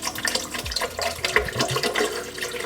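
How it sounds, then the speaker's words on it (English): Purified water is poured into a container while making tree nut milk, a close, quiet splashing and trickling stream that gurgles unevenly for a few seconds. "So just pour that in there."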